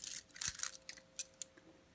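Metal keys from a large collection clink and jingle as they are handled, a cluster of bright jangles at the start followed by two sharp isolated clicks, close and fairly quiet.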